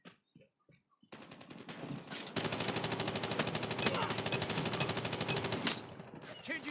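Call of Duty multiplayer match with sustained automatic gunfire: a few scattered shots, then a long dense rattling burst from close range, loud and continuous until it breaks off near the end.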